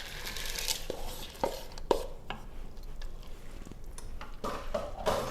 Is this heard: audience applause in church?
no